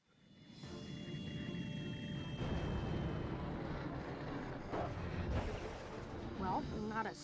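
A ship sets down roughly in Jimmy Neutron: Attack of the Twonkies, a rising engine roar that swells after a quiet start and holds loud with rumbling thuds and whirring tones, some game voices underneath.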